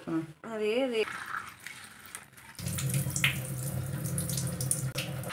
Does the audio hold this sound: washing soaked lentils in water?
yes